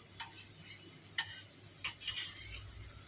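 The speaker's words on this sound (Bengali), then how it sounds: "এখন ধোকাটাকে ভেজে নিচ্ছি তেলে" Dhoka, a Bengali lentil cake, frying in oil over medium-low flame, with a soft steady sizzle broken by a few sharp metallic clicks of a utensil, heard close and quiet.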